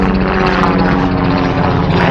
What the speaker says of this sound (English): there's a helicopter behind me that you can't see